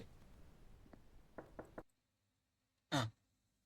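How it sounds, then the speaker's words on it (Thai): Knocking on a door in a horror video game: a few quick, soft taps build into three firm raps, then a pause of near silence before one loud, sharp knock. "มีคนเคาะประตูนะครับ"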